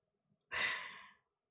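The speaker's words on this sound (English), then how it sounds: "that heavy breathing" One heavy breath, a loud rushing exhale or sigh lasting under a second, close up and alone in otherwise near silence.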